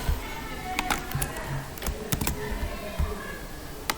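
Computer keyboard keys tapped in quick irregular bursts while copying and pasting in an Excel spreadsheet, close and fairly loud, with someone talking over the clicks.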